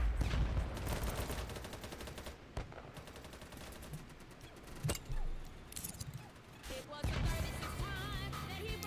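Gunfire in a video game, dense rattling bursts of automatic weapons with sharp individual cracks scattered through, loud and continuous with busy battle noise throughout.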